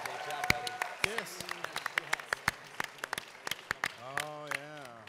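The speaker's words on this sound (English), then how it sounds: "Big round of applause for Al." A burst of clapping from a small audience at a movie script reading at an anime convention, sharp uneven claps over several seconds, mixed with voices and cheering.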